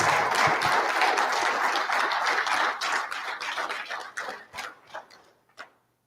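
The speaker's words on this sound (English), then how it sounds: "let's give Gigi a round of applause" Conference audience at a spring summit applauding a presenter named Gigi, a lively burst of clapping that thins into scattered individual claps and fades out over about six seconds.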